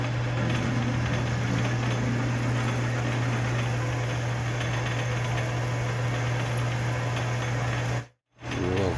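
A lathe drills a steel part for an M10 by 1.5 thread, giving a steady, close machine hum with a strong low drone that runs unbroken until a brief cutout near the end.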